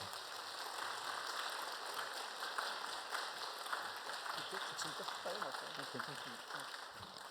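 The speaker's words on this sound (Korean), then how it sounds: "뜨거운 격려 박수 부탁합니다." Sustained applause from a church congregation at a Wednesday worship service, a dense steady patter of many hands filling the whole stretch at moderate level with no break.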